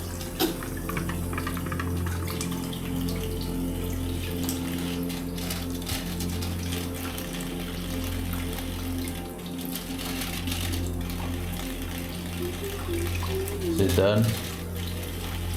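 Water runs from a tap in a steady, continuous hiss throughout. People talk briefly over it near the end.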